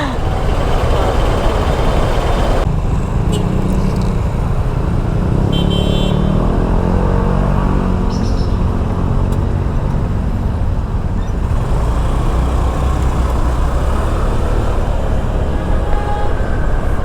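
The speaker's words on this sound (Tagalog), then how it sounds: "Grabe ho talaga traffic ng ganitong oras dito." Heavy road traffic on a busy street in Taft, Pasay, Manila: a constant loud rumble of cars, trucks, motorcycles and buses with engine drone and occasional horn toots, people talking nearby throughout.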